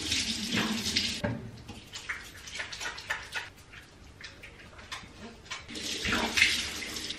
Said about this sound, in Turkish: Şimdi yüzümü, gözümü bir güzel Dalina yıkayacağım.